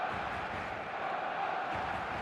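A stadium crowd before kickoff in the eFootball 2025 video game, a steady broad roar of cheering voices, distant and continuous, with a commentator speaking over it.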